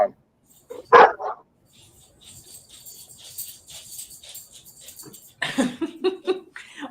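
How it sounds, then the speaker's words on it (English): A dog barks in short sharp bursts near the start and again toward the end, loud and close in a room, with a voice and some laughter in between. "Our dog hears the dog on the computer"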